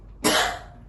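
A single short, close cough from a woman, one sharp burst that fades quickly within a quiet room.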